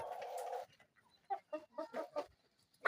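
Nimadal Bahama chickens and roosters cluck in a series of short, close calls after an opening squawk, the sounds coming in uneven bursts with quiet gaps between.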